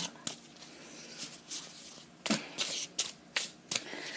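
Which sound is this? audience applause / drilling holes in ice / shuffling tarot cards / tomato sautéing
shuffling tarot cards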